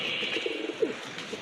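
Soft, low cooing from a healthy pigeon kept for sale, a few short murmuring coos close by over steady background hiss, with one slightly louder burst partway through.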